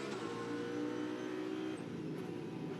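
Onboard an Audi GT race car driven by Conor Di Filippi for Land Motorsport in ADAC GT Masters at Oschersleben, a steady loud engine drone at speed with slight pitch shifts.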